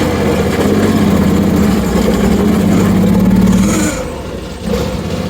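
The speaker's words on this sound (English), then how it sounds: "We're gonna move forward in low range, give it a little throttle." A steady, loud engine drone from an AGT Industrial KRW23 end loader throttling up in low range while it scoops dirt, holding for several seconds before easing off and briefly rising again.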